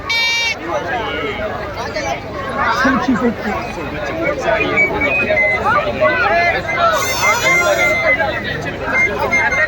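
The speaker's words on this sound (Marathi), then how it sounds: "बघा ना गर्दी किती आहे ती बघा" Dense crowd chatter at the Katradevi village fair in Sagve, many overlapping voices forming a steady, loud babble, with a few nearer voices and a brief high tonal burst cutting through.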